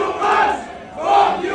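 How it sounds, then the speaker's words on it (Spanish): Spectators in the grandstand at the Monza Formula 1 race boo Max Verstappen, two swelling waves of loud, sustained crowd jeering with no speech. "se están riendo directamente del abucheo que le pegan a Max Verstappen"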